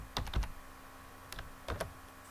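Keys on a computer keyboard are tapped in a few quick, close clusters of clicks, faint and with no voices.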